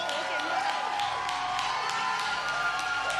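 A church congregation claps and cheers in praise during a testimony service, with steady rhythmic clapping and voices rising together in a lively, sustained din.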